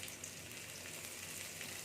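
Chopped onion dropped into hot oil with garlic in a pan, giving a steady close-up sizzle and crackle that holds evenly throughout, with no talking.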